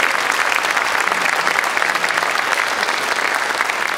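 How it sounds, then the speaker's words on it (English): Dense, steady audience applause for a jazz band at a concert, many hands clapping together at close range for the full four seconds with no break. "let's give another round of applause for Jazz Band 2."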